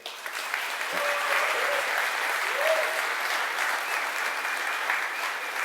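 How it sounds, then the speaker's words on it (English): Conference audience applauding a speaker at a web design event in Freiburg, a loud, sustained wash of many hands clapping that fills the whole stretch with a faint voice or two. "Give a warm round of applause to Phil HAWKSWORTH."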